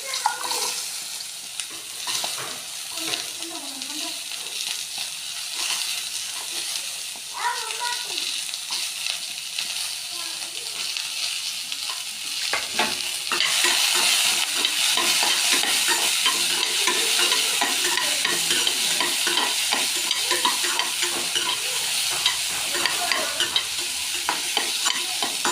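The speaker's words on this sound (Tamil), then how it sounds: "கொஞ்சம் கலர் சேஞ்ச் ஆகுற வரைக்கும் நம்ம என்ன பண்ணணும்னா கொஞ்சம் இப்படி வதக்கி விட்டுக்கிட்டே இருக்கணும்." Chopped chayote stir-fried in a pan for a chutney, with a steady close sizzle and repeated scraping stirs that grow louder and denser in the second half.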